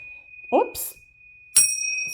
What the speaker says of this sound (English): these are my tincture bells, and they're great for a quick,